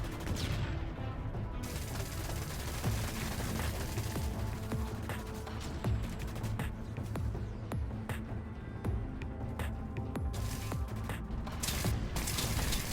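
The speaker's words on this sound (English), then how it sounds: "The submachine gun sidearm is a powerful little sidearm that can mow down enemies that get too close" Rapid automatic bursts from a submachine gun sidearm in the sci-fi shooter Dust 514, sharp cracks repeating loudly and continuously across the clip over a dense battle din, with no talking.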